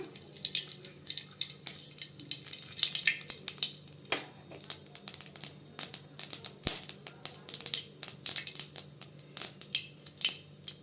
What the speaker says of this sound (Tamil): இப்போ சட்டி சூடானதை எண்ணெய் ஊற்றிக்கிட்டேங்க கடுகு போட்டுக்கலாம்